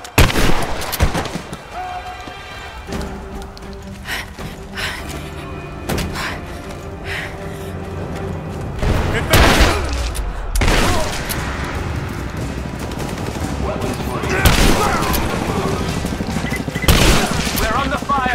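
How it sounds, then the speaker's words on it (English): Gunfire erupts at the edge of a village in the video game Rise of the Tomb Raider: bursts of automatic fire and heavy booms and thuds spread across the scene, while characters talk between the shots. "We're under fire at the edge of the village."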